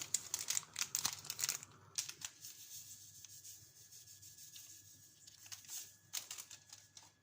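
Crinkling and rubbing of a yeast packet while making sweet bread rolls, brisk papery crackles close by in the first two seconds, then quieter intermittent rustles.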